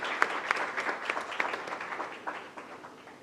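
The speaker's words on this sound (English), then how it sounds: "please join me in giving Mehtaji a big round of applause" A hall audience at a book launch applauds the author of a book on presidential democracy: a fairly faint, even wash of many hands clapping with a few crisp nearby claps standing out early, then slowly thinning.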